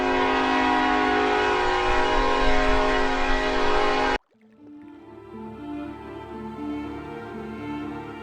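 A train in the Broken Sword II game plays for about four seconds as a loud, steady rumble with a sustained horn tone, then cuts abruptly to a quieter rolling rattle of carriages that continues on its own.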